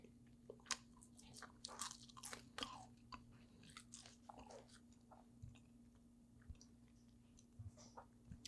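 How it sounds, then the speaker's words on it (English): Close, crisp crunching as a crispy batter-style Chinese scallion pancake is bitten and chewed, irregular crackly bites with quiet pauses between them. "But it is super crunchy."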